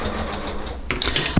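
A sewing machine bastes fabric pieces for a glasses case, giving a close, steady mechanical whir that breaks into a few quick ticking clicks near the end.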